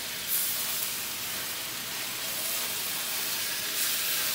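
Beef cubes for bò lúc lắc stir-fry in a pan over high heat with a steady, bright sizzling hiss, constant and close, with no voices.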